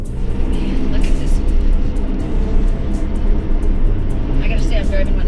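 A Ferrari sports car drives along an empty winding road, its engine a steady, close, continuous drone heard from inside the cabin, with a few faint clicks and knocks over it.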